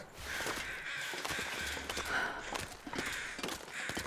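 Crows caw repeatedly in The Long Dark video game, harsh calls overlapping in a loose, irregular rhythm, moderately close but fairly quiet against a faint outdoor background.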